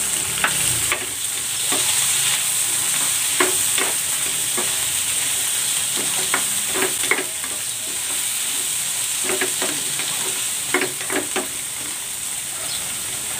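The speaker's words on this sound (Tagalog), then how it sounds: "Gigisa ko na rin tong sibuyas. At ang kamatis." Chopped onion and tomato sauté in a hot pan, a continuous loud sizzle broken by frequent scraping stirs of a utensil, close up with no talking.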